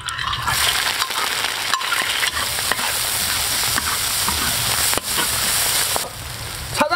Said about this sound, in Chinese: 油温六十度下入炒料